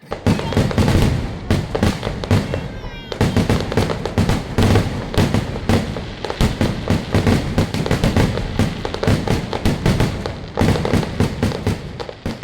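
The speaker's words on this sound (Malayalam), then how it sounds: "കാഴ്ചവരവ് ക്ഷേത്രത്തിലെത്തിയതിനു ശേഷമാണ് ആചാര വെടിക്കെട്ട് നടക്കുന്നത്." Ritual fireworks at a Kerala temple festival crackle and boom in dense, rapid bursts, a near-continuous barrage of loud explosions with brief pauses.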